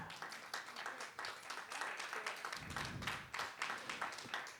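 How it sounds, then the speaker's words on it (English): An audience at a live magic show in Atlanta claps steadily, many hands blending into sustained, moderately close applause that lasts the whole stretch. "I love an audience where I can just look at everybody until they clap."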